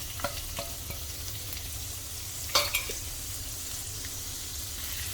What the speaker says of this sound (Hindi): प्याज को भून लेना है हमें।